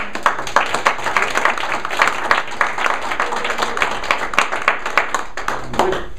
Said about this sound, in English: could we have a round of applause?